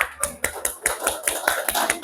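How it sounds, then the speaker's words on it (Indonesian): A small group of primary school students claps in a classroom, a short burst of quick, uneven hand claps close by. "tepuk tangan untuk teman kalian berlima ini"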